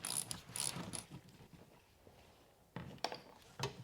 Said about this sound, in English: break it loose with a 15mm socket